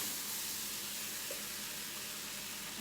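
Rice and broth are stirred in a pot, giving a dense, continuous sizzle and steamy hiss that stays loud and close throughout, with faint stirring underneath.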